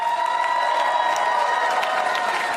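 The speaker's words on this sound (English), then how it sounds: "Give some round of applause" Applause and cheering from a comedy club audience at Gotham Comedy Club in New York City, a steady loud wash of clapping and whoops sustained throughout with no break.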